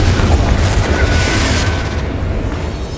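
Confringo blasting spell going off in Hogwarts Legacy, a loud booming explosion with dense low rumble that holds for about a second and a half, then thins into a fading tail.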